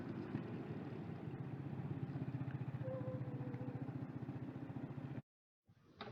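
A Kymco DT X360 scooter coasting slowly downhill with the throttle closed gives a steady, close low rumble with a faint rhythmic pulse, then cuts out briefly near the end.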